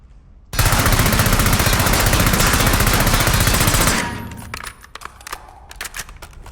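A VAL rifle fires one long, loud, unbroken burst of automatic fire in Call of Duty Warzone that lasts about three and a half seconds, then stops abruptly, leaving faint clicks and game sounds.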